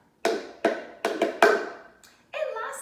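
A plastic cup tapped several times in an uneven rhythm, producing light, hollow clicks, followed by a brief scraping or rubbing sound.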